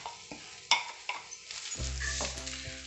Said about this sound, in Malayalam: ഇതിലേക്ക് നമ്മൾ തേങ്ങ ചേർത്ത് കൊടുക്കാം